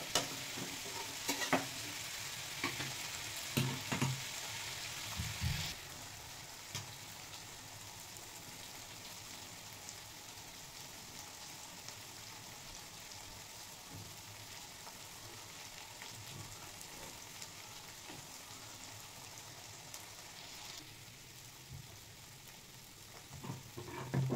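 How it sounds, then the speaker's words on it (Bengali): Chicken mince and young jackfruit frying with spices in a pan, giving a steady soft sizzle throughout, with a few stirring scrapes and clinks early on and again near the end, no talk. "মশলার সঙ্গে ইঁচড় ও চিকেন ভালো করে কষিয়ে নিয়েছি"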